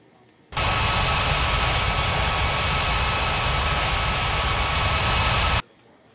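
A jet airliner takes off in the game Unmatched Air Traffic Control, a loud, steady engine roar that starts abruptly, holds for about five seconds, then cuts off.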